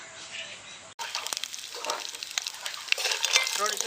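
Cashews fry in ghee in a small spoon for rava laddu, giving a close, steady crackling sizzle with scraping stir sounds that starts abruptly after a brief quieter moment.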